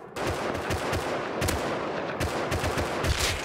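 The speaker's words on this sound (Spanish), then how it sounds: "Tiros, tiros, tiros, tiros, tiros." Rapid bursts of video game gunfire, sharp repeated shots and automatic volleys crackling close and loud over a busy battle backdrop.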